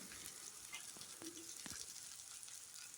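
Bread and sautéed onion fry in a small pan for bread upma, a steady soft sizzle with a few brief stirring clinks, no talk.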